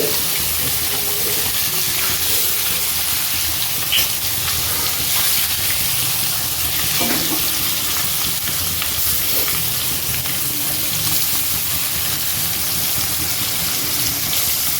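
Fish sizzles steadily in hot oil with a continuous hiss and crackle from start to finish, close and fairly loud, with a few small pops and some faint stirring.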